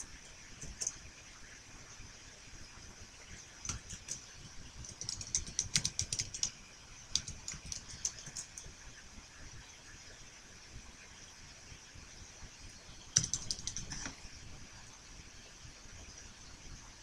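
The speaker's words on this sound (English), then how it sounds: "I gotta just type it out right." Typing on a computer keyboard while writing a Python bot, a steady stream of soft clicks with denser bursts around the middle and a sharper flurry near the end, fairly quiet throughout.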